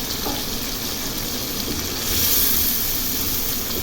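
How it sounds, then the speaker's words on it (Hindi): Beef with spices sizzles and hisses steadily in a pan while being fried for biryani, a close continuous crackle that swells slightly louder partway through, with no talking. "अभी इसे 3 से 4 मिनट अच्छी तरह फ्राई कर लेती हूँ।"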